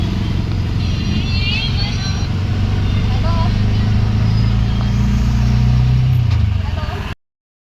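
Busy road junction jammed with idling and creeping cars, trucks and buses near Mangaon bus stand where roads from Pune meet, a dense steady engine rumble with occasional horn toots, close and loud throughout.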